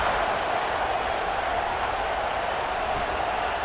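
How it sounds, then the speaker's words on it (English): A stadium crowd in EA Sports College Football 26 fills the air with a steady, dense roar of murmur and cheering, unbroken and moderately loud throughout, with no distinct voice on top. "this crowd is buzzing after that last score"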